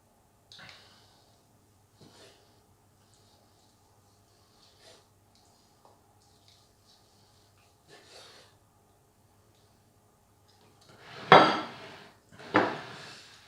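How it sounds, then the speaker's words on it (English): A knife carves a joint of lamb smoked over apple wood, with a few faint clinks and taps before two loud, close scraping cuts near the end. "so let's give this a carve"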